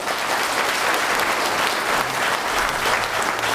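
A seated audience at a Gyeongbuk provincial and Cheongsong county town-hall meeting breaks into dense, sustained applause, many hands clapping together evenly and loudly for the whole stretch.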